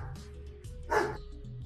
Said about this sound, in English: Dogs live in a house.